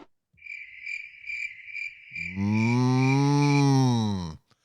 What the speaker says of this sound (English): Oh, have you got the crickets? Did I hear the crickets?